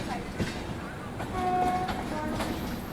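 Near Bhopal Junction, the TamilNadu Express train rolls along with rumbling wagons and clicking wheels, and a brief tonal horn sounds midway over the steady rail noise.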